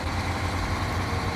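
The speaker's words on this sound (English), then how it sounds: "for me, the truck is really loud" A truck engine idling in the off-road driving game SnowRunner, a steady, loud low rumble that holds evenly throughout without any revving.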